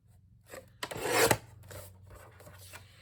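A cutting tool slices off an 8.5 inch piece of paper in one close, raspy stroke of about half a second, with faint handling rustles before and after.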